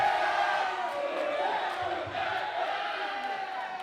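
A wrestling crowd in Hoboken cheers and shouts, a dense sustained roar of voices filling the hall with no individual sound standing out.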